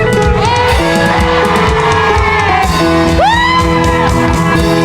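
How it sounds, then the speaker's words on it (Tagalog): A church congregation at a Sunday worship service shouts together in a loud, sustained roar of many voices, with rising whoops and yells riding over a steady crowd mass for several seconds. "Sa pangalan ni Jesus, ang lahat ay sumigaw ng"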